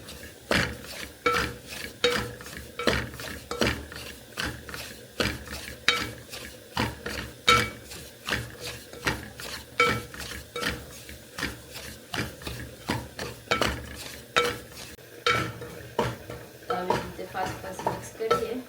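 Semolina halwa roasts in ghee while a spoon stirs it continuously, with rhythmic scraping strokes against the pot over a light sizzle, close and steady for the whole stretch.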